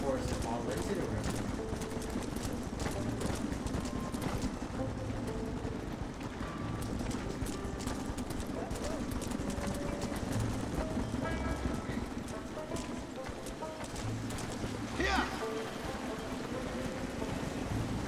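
Horse hooves in the video game Red Dead Redemption, with a steady rhythmic clopping under continuous game ambience and near a river, moderately loud, with talking over it.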